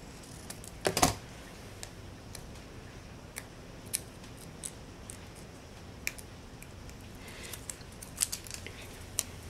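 Scissors trimming paper in a paper planner, with a loud cluster of snipping cuts near the start and then scattered single snips at irregular intervals over a quiet background, no voices.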